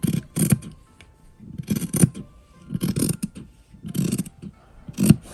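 Scissors trim fabric in several separate crunchy snipping bursts, roughly one per second, close and clear with no talking.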